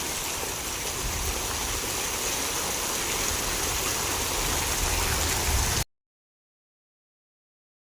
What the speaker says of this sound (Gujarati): વરસાદ ભારે ચાલુ આ બાજુ જોઈ લો પાણી હેડવા માંડ્યું